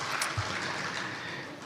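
Applause from an audience of party delegates gathered in a meeting hall, a steady wash of clapping that stays fairly even and moderately distant for its whole length, with no voices over it.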